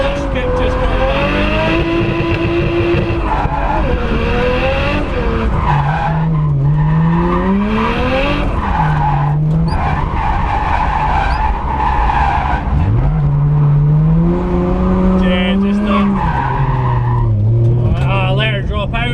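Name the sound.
R33 Nissan Skyline drifting with tyres skidding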